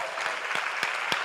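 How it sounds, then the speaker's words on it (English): Brief burst of conference audience applause at a 2015 summit, dense scattered clapping at moderate level for just over a second with a few sharper claps standing out. "Give yourself a round of applause."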